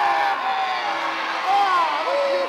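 Wrestling arena crowd roaring and cheering steadily throughout, a dense wash of voices with whoops rising near the end, while a commentator talks over it.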